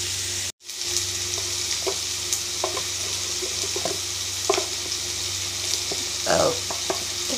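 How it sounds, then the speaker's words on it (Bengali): Frying in a pan for a chana dal recipe gives a steady close hiss and sizzle, with occasional light scrapes and taps of stirring and a brief cut-out near the start. "একটু ভেজে নেব।"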